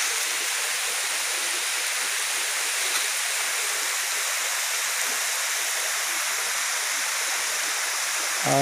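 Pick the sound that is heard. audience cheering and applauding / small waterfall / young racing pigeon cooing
small waterfall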